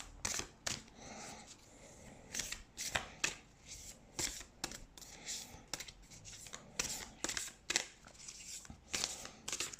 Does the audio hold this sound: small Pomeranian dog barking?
no